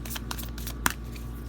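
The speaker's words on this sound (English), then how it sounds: "let's shuffle this one more time" Tarot cards being shuffled by hand, a soft papery riffle of faint scratchy bursts with one sharper snap near the end, heard close and quiet with no talk.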